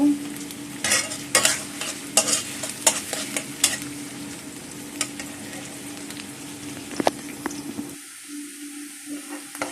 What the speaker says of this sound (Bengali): এখানে আগে আমি মাছটাকে কষিয়ে উঠিয়ে নেব তো এই মশলার ভিতরে আমি মাছগুলো দিয়ে দেবো